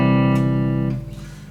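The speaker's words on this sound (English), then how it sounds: "whereas the guitar strings would normally sound like this if you made them ring" An electric guitar's strings ringing open and unmuted, played through the bridge pickup as a single sustained chord that rings out alone for about a second before being cut short and fading.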